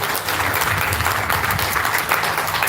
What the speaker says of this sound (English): Can I have a round of applause for the JC team?